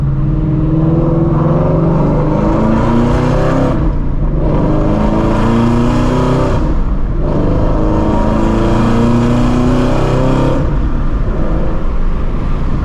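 A Shelby GT350 engine roars loud and steady through hard acceleration pulls, with three brief dips between sustained surges as gears change, heard from inside the car.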